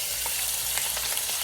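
Liempo pork belly pieces frying in a pan of oil, a steady dense sizzle with small crackles and pops scattered throughout, close and continuous.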